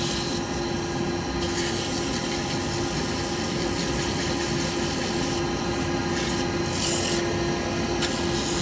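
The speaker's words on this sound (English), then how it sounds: "I always sand at the same speed, you know, I just don't put too much pressure on." Sandpaper rubbing end-grain wood spinning on a lathe while hollowing, a continuous close rasping hiss over the lathe motor's steady drone at even speed.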